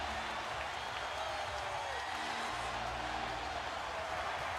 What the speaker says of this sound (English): The crowd starting to celebrate.